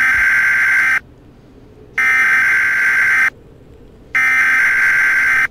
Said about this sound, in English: Oh, great, another EAS.